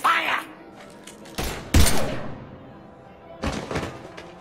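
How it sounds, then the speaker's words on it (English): Gunfire erupts in Mass Effect 3 in loud, close bursts and heavy thumps, with a dense volley near the middle and another round of shots toward the end. "Now open fire!"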